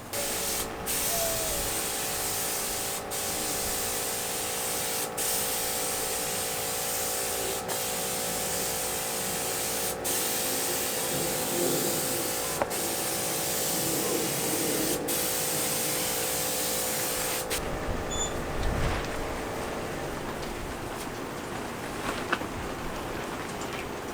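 A spray gun hisses continuously and close while paint is sprayed onto Integra body panels, with steady airflow broken by a few faint clicks and a brief change in tone near the end.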